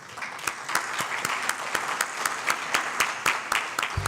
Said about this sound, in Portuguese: Já no início eu peço uma salva de palmas às mulheres.